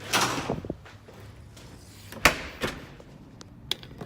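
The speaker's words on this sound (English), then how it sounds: "Make sure the first one's closed before you open the second door." At a shooting range entrance, a door swings and latches with a few sharp clunks and a click, scattered over four seconds with quieter handling noise between.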